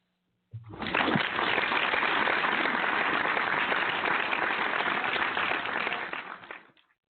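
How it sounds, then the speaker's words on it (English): On a barbershop talk radio show, people applaud for both teams, a thick, even roar of clapping that starts abruptly, holds steady for about six seconds and then fades out, slightly muffled as if heard through a broadcast. "Let's applaud both teams."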